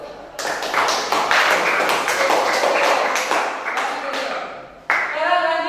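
A classroom group claps together for a student team, a dense burst of hand claps running for about four seconds before a voice speaks at the end.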